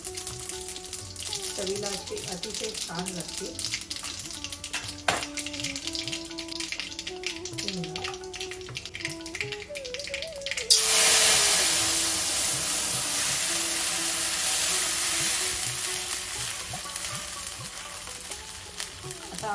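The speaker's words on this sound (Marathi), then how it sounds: "मस्त अशी तडतडू द्यायची." Tempering spices crackle and sizzle in hot oil for Maharashtrian maswadi. Talk and light kitchen clatter fill the first half, then a loud, steady frying hiss takes over close by and holds to the end.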